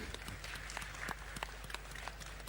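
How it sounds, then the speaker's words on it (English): Conference audience clapping for a speaker at the African Development Bank 2024 Annual Meeting, a steady but faint wash of scattered claps heard from a distance, lasting a couple of seconds. "Big round of applause for Vice President Kariuki."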